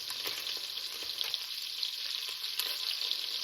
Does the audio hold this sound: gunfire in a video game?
no